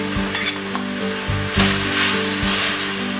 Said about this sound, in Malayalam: തിളച്ചതിന് ശേഷം നമ്മൾ വറുത്ത് വെച്ചിരിക്കുന്ന ചെമ്മീൻ അതിലേക്ക് ഇടുക